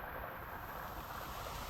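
A small waterfall hidden in the middle of a Brazilian city gives a faint, steady broadband rush that never changes and has no distinct splashes. No voices are heard over it.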